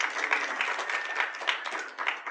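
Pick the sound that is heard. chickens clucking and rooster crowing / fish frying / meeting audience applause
meeting audience applause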